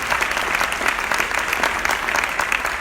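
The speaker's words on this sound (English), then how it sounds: "Can everyone give Carolyn another round of applause?" An audience at a women's leadership breakfast claps in a sustained round of dense, even applause, loud and close, with no pause across the whole stretch.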